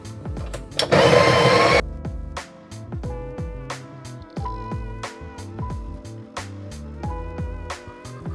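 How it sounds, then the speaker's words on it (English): A coffee grinder whirs through a burst of beans for about a second, loud and close, followed by clinks and taps of the grinder being handled. "So now when I grind my beans, I get all of them and they don't get stuck in the grinder."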